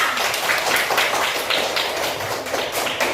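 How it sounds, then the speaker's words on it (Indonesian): A classroom of students claps for a group of classmates: dense, steady, fairly loud clapping that fills the whole stretch without pause. "Kasih tepuk tangan untuk kelompok 2."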